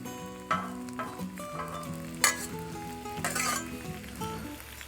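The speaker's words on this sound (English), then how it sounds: "We give these onions a little stir again" Onions sizzle on a Blackstone griddle as a spatula stirs and clinks against the metal, the frying steady and close beneath a sustained tonal background, with a few sharp scrapes.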